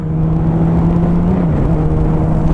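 A motorcycle rides on a highway with traffic, a loud constant engine drone under a rush of wind, with no break from start to end.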